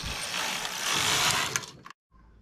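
A knitting machine carriage slides across the needle bed, giving a close, rising mechanical whirr and rattle that ends in a few sharp clicks before a sudden stop and quiet.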